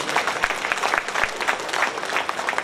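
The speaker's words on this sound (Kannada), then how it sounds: "ಚಪ್ಪಾಳೆಯ ಅಭಿಷೇಕ" An audience at a closing ceremony of a coastal Karnataka arts festival claps for an honoured guest, producing a dense, continuous burst of applause with no voices over it.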